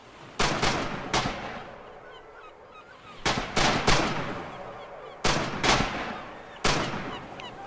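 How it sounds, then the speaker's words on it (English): Rifle shots ring out in a competitive video game match, sharp broadband cracks arriving in clustered bursts of two or three with short gaps between, loud and close over a low ambient bed, no talk. "Lots of firing, but no hits so far"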